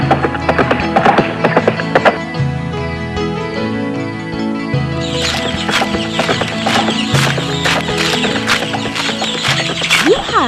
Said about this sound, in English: At that very moment, the king's carriage came near the castle.